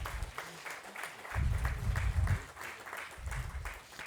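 An audience applauds chief guests and dignitaries at an engineering education centre's inaugural function, a moderate round of clapping with heavier swells partway through and a few faint voices underneath.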